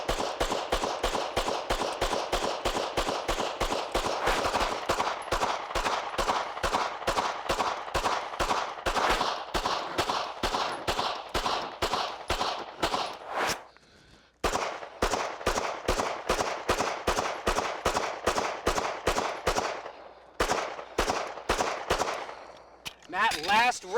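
Taurus TX9 pistol fires loud, rapid, evenly spaced shots in long strings at close range, with a couple of short pauses between volleys.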